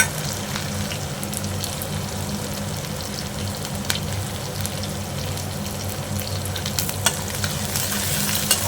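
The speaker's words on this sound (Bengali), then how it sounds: "এবার আমি পেঁয়াজগুলো একটু ছিঁড়ে দিলাম, ওটা আমি পেঁয়াজ দিলাম।" Onions and ground roasted spice powder fry in a pan with a steady, close sizzle, broken by occasional scrapes of a spoon as they are stirred.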